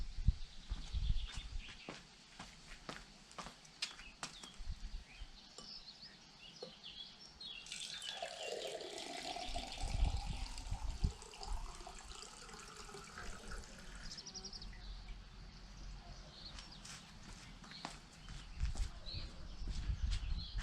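Water pours from a tap into a carafe for about ten seconds, a rising filling rush amid faint background clicks and distant bird chirps.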